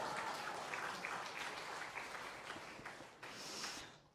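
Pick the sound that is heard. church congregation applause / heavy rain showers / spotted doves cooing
church congregation applause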